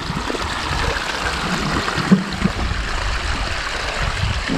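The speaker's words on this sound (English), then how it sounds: "We have a continuation of the waterfall there." Garden waterfall trickling into a stream beside a lake house, a continuous close splashing and burbling of water with a couple of small bumps, no voices over it.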